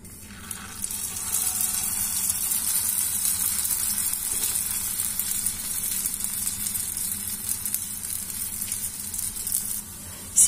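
Churros frying in hot oil, a steady bright sizzle and crackle holding at moderate level throughout with no voices.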